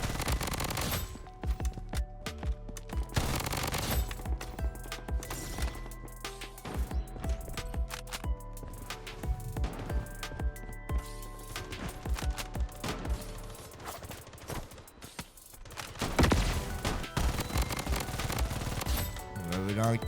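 Gunfire in the video game Bloodstrike: rapid bursts of automatic shots and sharp single cracks with mechanical reload clicks, loud and continuous, with a player talking at times.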